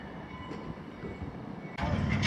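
A locomotive backing up at SteamTown, giving a steady low rumble of rolling rail cars that swells into a louder, rougher surge near the end.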